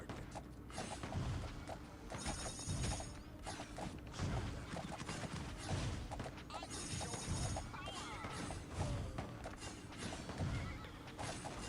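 A horse in a Forsaken Valley video game match neighs and whinnies repeatedly while its hooves clip-clop in a steady rhythm, loud and close over busy game noise and mechanical creaks.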